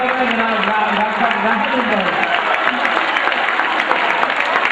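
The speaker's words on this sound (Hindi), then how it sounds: "तालियां बजाइए दोस्तों।" Mushaira audience claps for a recited couplet, with a speaking voice carrying over the start before the applause continues as steady, moderately loud clapping.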